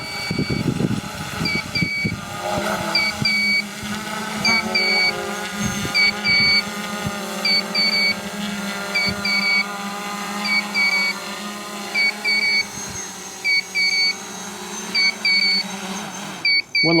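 An RC Logger NovaX 350 drone hovering and then descending, its motors giving a steady layered whine, with short repeated high electronic beeps throughout and rustling gusts at the start.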